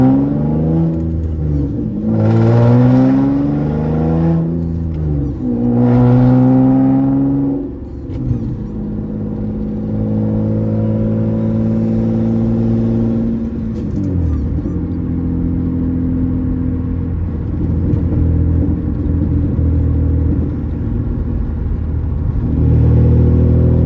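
A manual-swapped seventh-generation Nissan Maxima with an ISR exhaust revs hard twice, then drops through downshifts with rev-matching blips and settles into a loud, droning rumble, close up with no voices.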